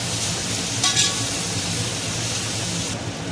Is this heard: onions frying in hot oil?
yes